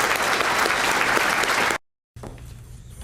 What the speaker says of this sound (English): So let's give them a round of applause for what they do for us.